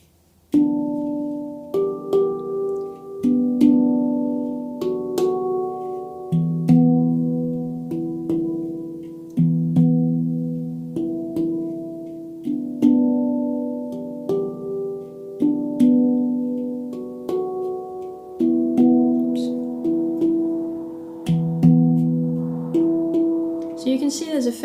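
A handpan plays a simple repeating melody: clear, ringing metallic notes struck one after another in a steady, unhurried rhythm, each tone sustaining and decaying, heard alone and close with no voice.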